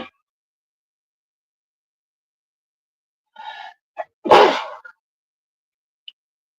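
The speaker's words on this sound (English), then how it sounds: "I gotta sneeze." A single person's sneeze bursts out loud and close, preceded by a couple of short breaths or sniffs and followed by silence.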